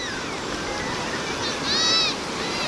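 Sea waves break and wash onto the beach at Murudeshwar, Karnataka, as a steady, broad roar of surf that swells briefly near the end, with a faint high whistle-like tone over it.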